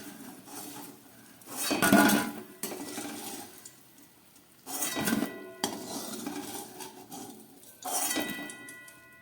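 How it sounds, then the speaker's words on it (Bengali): Fried potatoes being lifted out of a pan of hot oil, with metal spatula scrapes and clinks against the pan in bursts, faint sizzling of oil between them, close up with no talk. "এবার আমি আলুগুলোকে তুলে নিচ্ছি"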